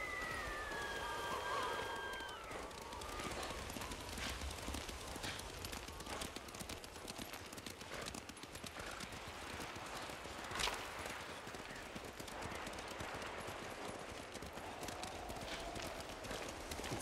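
Rhythmic hoofbeats of a galloping horse in the video game Ghost of Tsushima continue throughout, with a brief rising siren-like whine at the start and scattered clatter.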